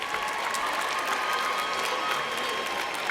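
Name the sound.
applause for Masters in Journalism graduates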